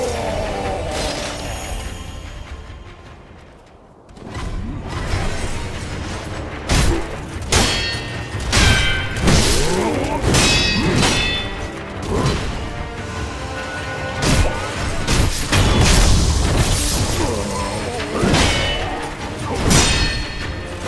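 Blasts and crashes from a rocket launcher in the video game Sekiro, a dense run of loud booms, clangs and thuds with a brief lull near the four-second mark, then repeated sharp impacts piling up close and heavy.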